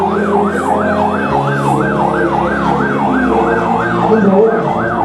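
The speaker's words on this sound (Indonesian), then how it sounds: "ada ambulan" Loud wailing ambulance siren during a disaster response drill, rising and falling rapidly in a steady cycle, close by with engine noise underneath.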